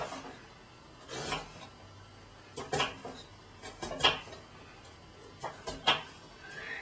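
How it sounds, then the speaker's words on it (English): A sharp knife cuts through a vegetable on a board with a few separate chopping strokes, each a short crisp thunk, spaced irregularly and close by in a quiet kitchen. "Then I'm going to come in and cut it lengthways"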